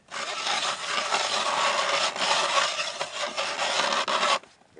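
Hand auger drilling a hole through lake ice while ice fishing for crappie, giving a steady, loud grinding rasp that runs continuously for several seconds before stopping abruptly near the end.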